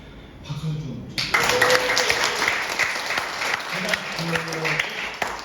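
Room of attendees at a business presentation breaking into applause after a brief pause, loud dense clapping that carries on for several seconds with some voices underneath.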